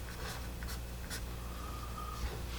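Soft scratching of a Blackwing Volumes 651 pencil on paper, a few faint strokes heard up close against a quiet background.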